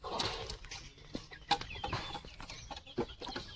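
Farmyard chickens clucking as they are given feed in a rural Bengali village, several birds calling near and close in short, irregular bursts over a scratchy, busy background.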